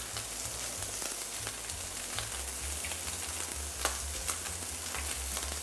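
Onion rings deep frying in hot oil give off a soft, continuous bubbling sizzle with faint crackles, quiet and steady throughout.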